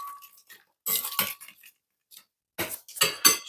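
A spoon clinking against a bowl of wet ingredients for honey lemon mustard chicken, sharp bright taps and scrapes in short irregular bursts with brief silent gaps between them, close and clear.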